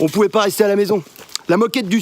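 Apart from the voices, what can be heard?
No distinct noise like a dog, phone or traffic.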